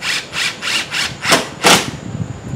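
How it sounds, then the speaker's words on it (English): A power driver sinks number 8 two-inch screws into wooden plies for bunk beds in a workshop, giving five or six rapid, loud whirring bursts close by, each short and evenly spaced, the last one slightly longer. "I fasten with number 8 by 2-inch screws"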